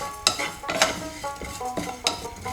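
Coriander and whole spices are dry-roasted in a pan without oil, giving repeated scraping stirs and metallic clinks of a spoon against the pan in an irregular rhythm, close and fairly loud.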